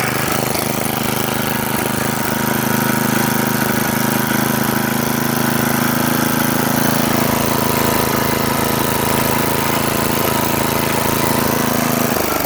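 A generator powered by a Tecumseh engine runs steadily after a carburetor fix for surging, giving a continuous, even mechanical drone close to the microphone with no speech.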